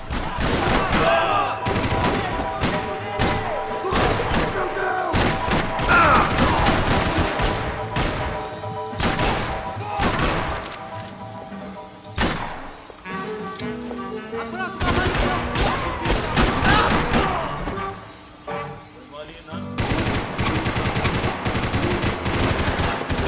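Repeated bursts of automatic gunfire and scattered shots from the video game Max Payne 3, loud and dense across the whole stretch, with brief lulls and game speech mixed in.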